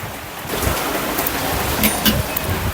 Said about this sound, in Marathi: पाऊस आला पाऊस आला पाऊस आला